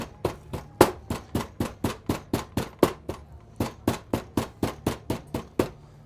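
A meat mallet pounds beef on a board for Scottish beef collops, about twenty sharp, evenly spaced blows in a quick steady rhythm, close and loud with no voices.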